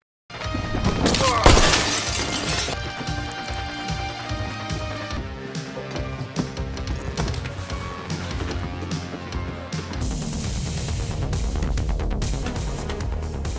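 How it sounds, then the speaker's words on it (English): A high-caliber round blasts through glass, giving a sharp shattering crash near the start over a loud, dense dramatic music score that continues throughout. "a high-caliber round blasts through the glass, killing the teacher instantly"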